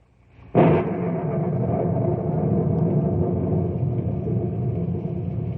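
A sudden crack of thunder bursts out, then rolls into a long, heavy rumble that stays loud and steady to the end.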